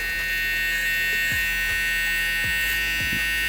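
A Gamma Evo X hair trimmer buzzes steadily and close during a drop fade haircut, a constant electric hum with a few short dips and sweeps as the blade moves through hair.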